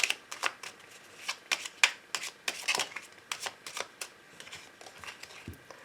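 Angel oracle cards are shuffled by hand for a reading, giving a quick series of crisp riffling and slapping bursts in an irregular rhythm, close and fairly quiet, with no talking.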